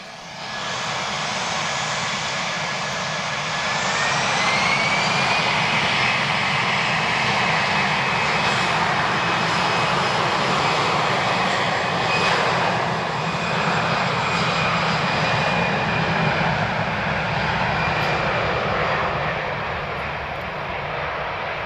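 A passenger airliner, a Royal Air Maroc flight arriving at Lisbon Airport, roars steadily throughout, its loud broad engine noise building slightly and holding as a rising whine sweeps upward early on.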